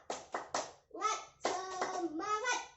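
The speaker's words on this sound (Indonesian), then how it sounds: "Oh, ya udah tepuk semangat dulu. Tepuk semangat." Children doing a rhythmic cheer clap in a small classroom, three quick sharp claps followed by shouted chanting voices in a short patterned burst, close and fairly quiet.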